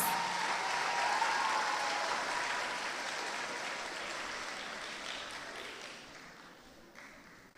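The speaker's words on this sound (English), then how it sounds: "Let's give him a round of applause" A primary school graduation audience claps in a sustained round of applause, loud at first and slowly fading over several seconds.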